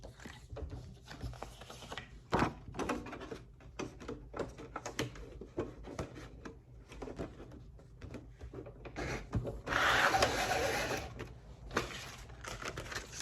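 A business card cutting machine slices cards in half and trims off the excess, giving a run of close, sharp mechanical clacks and clicks with a denser whirring burst near the end, heard alone without talk.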